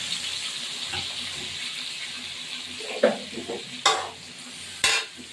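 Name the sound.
ingredients added and stirred into sizzling fried rice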